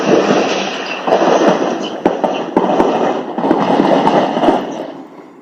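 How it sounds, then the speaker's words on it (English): Sharp gunshot cracks from a live battle in Moyoka, Cameroon ring out irregularly over a loud, roaring background din, some shots close together, others spaced apart, echoing across an open area. "We can hear gunshot across Moyoka as the forces then be engaged in live battle"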